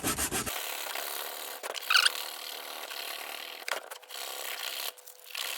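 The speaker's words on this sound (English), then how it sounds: "get some 80 grit sandpaper and just sand off the top of the tyre." A solid rubber tyre's top being sanded by hand with 80 grit sandpaper, a continuous close rasping rub with brief pauses and strokes, no talking.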